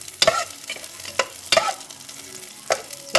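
Onion and garlic fry in a pan with a low, steady sizzle. A spoon scrapes and stirs several times in uneven strokes, close and fairly loud.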